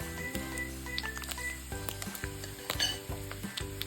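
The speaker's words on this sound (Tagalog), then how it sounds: "Kapag crispy na ang ating pork, ay pwede na natin itong hanguin." Pork belly frying until crispy, a close crackling sizzle with bursts of spattering oil and occasional pan clatter, no voices over it.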